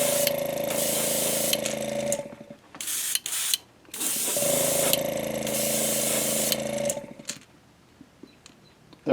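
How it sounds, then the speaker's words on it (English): Lime-coloured spray paint hisses from a can in two long, steady bursts of several seconds each, close and loud, separated by short clicks and handling noises. "We're going to take this lime and we're just going to lightly spray it."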